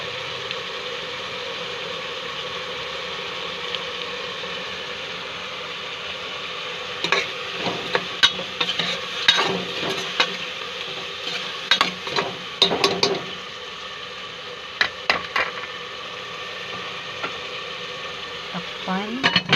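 Stir-fry seasoned with fish sauce and oyster sauce sizzling steadily in a pan, with bursts of rapid scraping and clattering from a spatula partway through; no voices.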